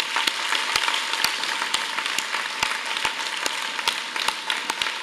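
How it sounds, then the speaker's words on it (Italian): Lively applause from an audience at a secondary school assembly, many hands clapping densely and steadily with sharper individual claps popping out near the front. "Quindi un applauso per lei."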